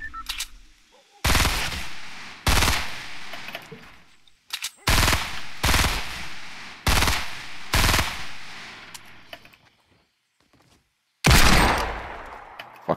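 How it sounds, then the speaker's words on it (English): Loud bursts of automatic gunfire from a video game come in separated volleys of about a second each, roughly seven of them with short silent gaps between, the last burst after a longer pause. "There's literally bullets coming from two different directions on my screen."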